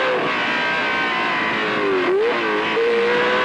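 A 1974 Ferrari 312 B3 Formula One car revs loudly and steadily, its engine note dipping and rising again midway through, with no talking.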